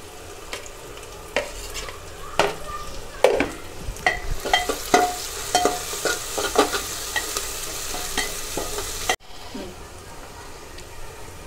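Ginger garlic paste sizzling and frying in a hot pan for a mutton dish, with repeated sharp stirring scrapes over a steady crackling hiss that cuts off abruptly near the end.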